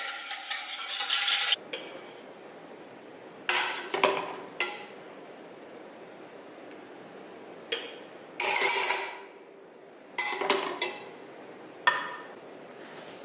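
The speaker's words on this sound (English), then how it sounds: "you're going to want to whisk thoroughly until everything's incorporated" A whisk beating ingredients for savory French toast in a dish, bursts of rapid metallic clinking and scraping separated by short pauses, close and loud, with no talk.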